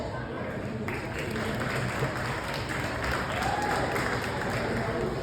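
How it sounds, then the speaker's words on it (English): A comedy club crowd in Katy, Texas applauds comedian Jace, producing a steady wash of moderately loud clapping that continues evenly without a break. "Big round of applause for Jace."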